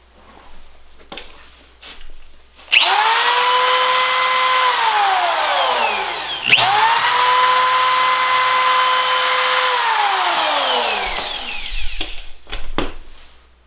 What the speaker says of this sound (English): I am starting up a fairly new electric drill which has a universal motor.